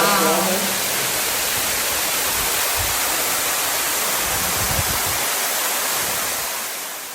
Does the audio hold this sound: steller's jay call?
no